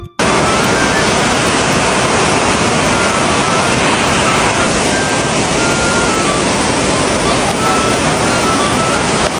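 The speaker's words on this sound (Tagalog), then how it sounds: "Sobrang lakas nga ng ulan ngayon dito sa amin mga guys." Heavy rain pours down at a home where water is starting to get inside, a dense, loud, unbroken roar that holds steady throughout with no voices.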